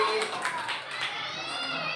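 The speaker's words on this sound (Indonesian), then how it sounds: "tepuk tangan buat kelompoknya Pak Arif" A classroom of students applauds a student group with a steady patter of many hands clapping at once, continuous and moderately loud, mixed with some children's voices.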